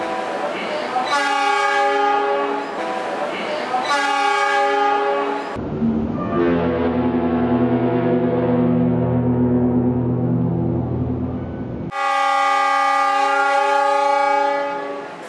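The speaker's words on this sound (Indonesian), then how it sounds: "Suara klaksonnya yang seperti memiliki delay juga memiliki karakter yang berbeda dari para pendahulunya." A new Indonesian diesel locomotive horn blares in long delayed-sounding chords: two short blasts, a lower sustained tone, then another loud blast, all close and loud.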